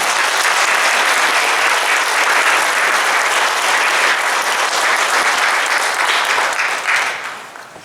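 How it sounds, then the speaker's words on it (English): Sustained applause from a concert audience after a community band's spring performance, dense and steady throughout before tapering off at the very end. "Give them another round of applause."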